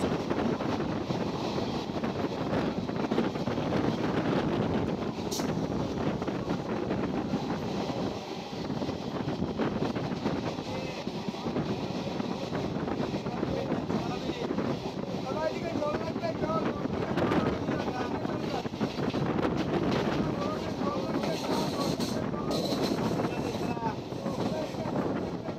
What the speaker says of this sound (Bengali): ট্রেনটি শিয়ালদহ শান্তিপুর লোকাল।